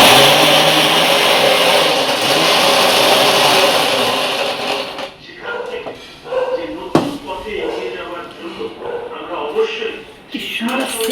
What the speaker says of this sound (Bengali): সবই দেওয়া, মিক্সিতে ঘুরিয়ে নেবেই